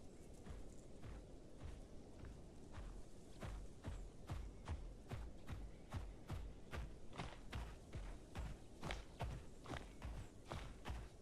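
Dinosaur footsteps in the Path of Titans video game, a steady rhythmic series of heavy, thudding steps repeating about twice per second, faint and even throughout.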